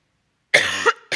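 A single sharp cough, close and fairly loud, followed by a short pause and the start of another sound.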